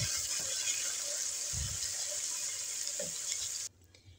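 Garlic ginger paste being stirred into fried onions in a pot for vegetable pulao, a continuous hissing fry with a few scraping thuds of the spoon, stopping abruptly near the end.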